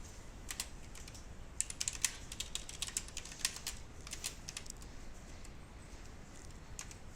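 Computer keys are pressed in short uneven bursts of close, crisp clicks, entering a Ctrl+5 shortcut at a desk, fairly quiet, with no voices.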